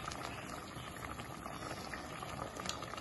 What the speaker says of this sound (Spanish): ahí está ya hirviendo la salsa